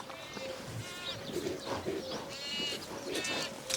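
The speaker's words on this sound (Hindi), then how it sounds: "बहुत खूबसूरत से, एकदम शांत स्वभाव की बकरी है।" Goats bleating on a goat farm in Rajasthan, several repeated wavering bleats at close range over steady farmyard background, with a few bird calls mixed in.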